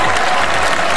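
Dense, steady applause fills the room at the Oscars award ceremony, loud and continuous throughout with no voices standing out.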